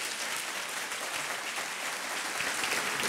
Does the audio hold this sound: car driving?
no